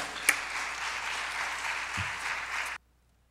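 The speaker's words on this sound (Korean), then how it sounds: "은혜 주신 하나님께 영광의 박수." Church congregation applauding during a Sunday worship service, a sustained even wash of many hands clapping with one sharp knock near the start, cutting off abruptly into silence.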